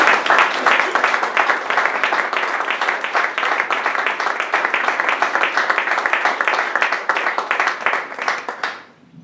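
Audience applause for a guest speaker at a Spanish-language lecture event, a dense steady wash of many hands clapping for about nine seconds, then fading out at the end, with no talk over it.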